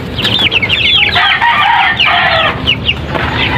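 Chickens in a brooding hen's flock cluck and crow up close, a busy overlapping run of loud calls with a brief rustle of wings, no talk.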